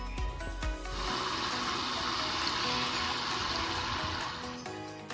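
Water pours steadily into a bucket, a close, continuous splashing rush, with a few clunks at the start and no talking. The water is for moistening seed-starting soil.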